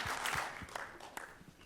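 Faint, brief applause from a church congregation, a thin scatter of claps that thins out quickly within a couple of seconds.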